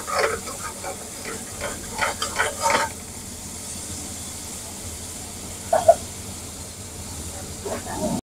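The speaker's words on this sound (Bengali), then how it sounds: "মশলাটা আমি এখন খুব ভালো করে ভেজে নেব" Spices fry in a pan and are stirred, giving a steady soft sizzle with scraping bursts early on and a few sharp clinks later, close and moderately loud without voices.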